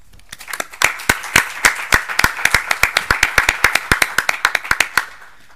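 Audience in an assembly hall applauding, a steady run of sharp, distinct hand claps at a brisk even rhythm, fairly close and loud, with no talk over it.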